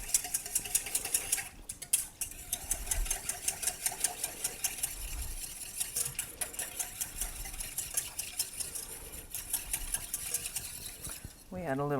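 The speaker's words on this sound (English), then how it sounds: "And we just whisk that up." A whisk rattles rapidly against a bowl while German-style salad dressing is mixed, a steady, close, busy clatter that runs almost continuously with one brief break near the start.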